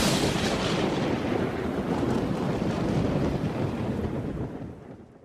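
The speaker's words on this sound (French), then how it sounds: "J'entendais le sifflement du vent et le clapotis régulier de l'eau sur le toit." A storm wind sound effect on a stormy night: a steady, broad, rushing howl that holds loud for several seconds and then gently fades away, with no voices.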